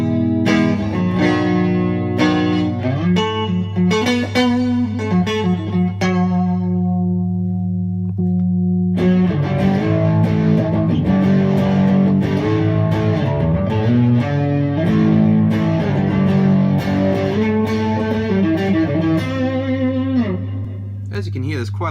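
An instrument played through a vintage Zoom 9000 multi-effects unit with distortion, giving sustained, saturated notes and chords over a steady low hum that runs throughout.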